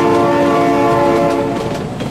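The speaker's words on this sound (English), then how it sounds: "my god, train!" Sustained, loud train horn chord over rolling rail rumble in the driving game BeamNG.Drive, holding steady and then easing slightly as the train keeps moving.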